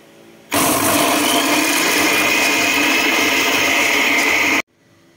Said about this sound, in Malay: Mula-mula sekali kita blend kasar cili padi, bawang putih dan juga bawang merah.